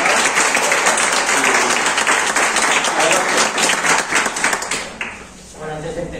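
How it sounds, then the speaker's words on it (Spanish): An audience gives Juanra a loud round of clapping at a Ley Natural talk in Tenerife, sharp dense claps rolling for about five seconds before fading quickly to near quiet. "les pido un aplauso para Juanra"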